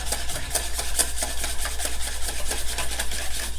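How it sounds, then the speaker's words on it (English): An egg being whisked in a bowl to break it up while baking an oatmeal berry bake, a steady run of quick scraping, rubbing strokes at close range with no talking. "I'm just gonna whisk it a little bit, just to break it up a little."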